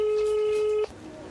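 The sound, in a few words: telephone ringback tone while calling a number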